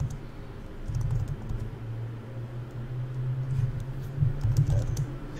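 Typing on a computer keyboard carries from across a room: a steady patter of soft, distant keystrokes under a low background rumble.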